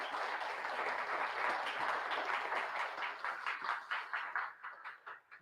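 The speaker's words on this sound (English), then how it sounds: "Now we can give the big round of applause," An audience at a PA 101 class gives a round of applause: dense, close clapping that holds steady, then thins into scattered claps and fades toward the end.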